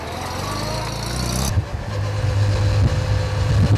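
A vintage car's starter button is pressed: about a second and a half of starter cranking, then the engine catches and settles into a deep, steady idle close by.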